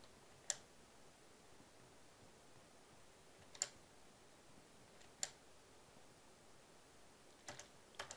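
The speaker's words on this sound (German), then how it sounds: "Auch schön laut meine Tastatur" Faint, sparse keyboard clicks, a handful of single taps spaced seconds apart, with a quick cluster near the end, over a quiet background hiss.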